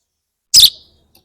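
An injured sparrow gives a single short, sharp chirp from inside its nest, loud and close, surrounded by silence.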